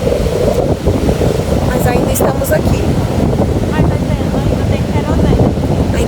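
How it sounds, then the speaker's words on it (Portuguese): Wind gusts across a beach at night beside a luau bonfire, a loud, continuous rumbling roar mixed with surf, while a person talks over it. "conforme o vento vai subindo, a maré também vai subindo"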